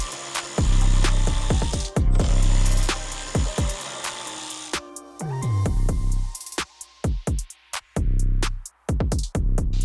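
Rapid clicking of a ratchet tightening bolts on a carbon fiber splash guard on a G9X BMW M5, repeated bursts of sharp close pawl clicks with short pauses between strokes.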